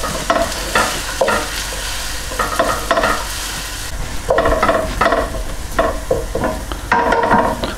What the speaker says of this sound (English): we need to add the 30 grams of butter and just melt that in